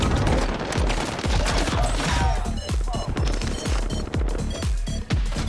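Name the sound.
GROZA rifle gunfire in a video game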